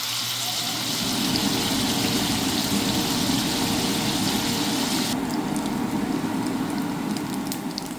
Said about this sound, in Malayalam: ഇനി നമ്മുടെ എക്സോസ്റ്റ് ഫാൻ ഓണാക്കാൻ പോവാണ്